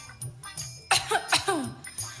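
A person sick with cough and fever coughs several times in close, harsh bursts, with brief quieter coughs before and after.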